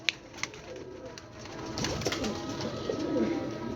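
Pigeons kept for sale coo softly in a loft, a low murmuring burble rising and falling with faint wing flutters and shuffling in the background, no talking.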